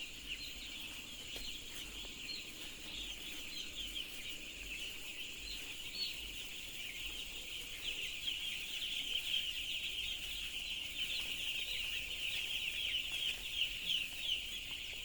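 Many chickens in a poultry shed fill the air with a steady, overlapping chorus of clucks and chirps that grows slightly louder and busier over time.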